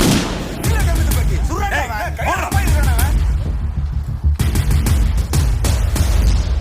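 Rapid bursts of gunfire in a Tamil action film fight, loud and close, sharp cracks coming in quick clusters while someone shouts over the shooting.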